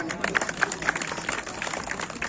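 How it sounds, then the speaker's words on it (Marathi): A crowd at a Maharashtra Kesari wrestling bout in India breaks into scattered applause, uneven clapping from many hands under a faint outdoor hubbub. "काशीर गुरुजीसाठी टाळी वाढवा सर्वांनी"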